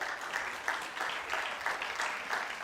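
Continuing audience applause at a TEDx event at Nile University of Nigeria, a fairly soft, even patter of many hands clapping with slight swells, and a voice faintly present.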